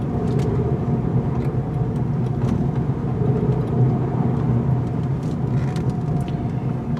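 A 2019 Volkswagen Golf taking a turning circle on tires set to 32 psi, its engine and road noise forming a steady low rumble that runs evenly throughout with no talking.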